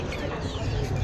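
White layer hens at a market in Meradia haat cluck softly and continuously, a faint, busy flock sound with no talk over it.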